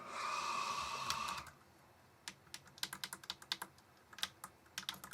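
Fingers type on the keyboard of a Tynemouth Mini PET 4080, an 8-bit computer. Rapid, crisp clicky keystrokes fall in an irregular run, close and clear. A brief whirring tone is heard before the typing starts.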